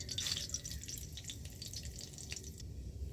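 Oil sizzles steadily in a kadai with dried red chillies and black cumin, a close, even hiss with a few sharper spits near the start.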